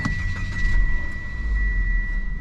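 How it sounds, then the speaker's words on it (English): Mitsubishi Xpander engine starting in hot weather in Indonesia: a brief starter burst followed by a low steady idle rumble, close and moderately loud with a thin high whine. "Let's turn on the engine first,"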